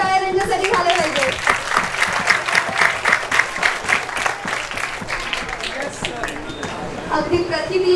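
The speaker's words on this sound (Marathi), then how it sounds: "त्यामुळे जोरदार टाळ्या त्यांच्यासाठी झाले पाहिजे" Loud, dense applause from a school admission-day audience, continuous clapping filling the whole stretch with a few louder peaks, steady and close throughout.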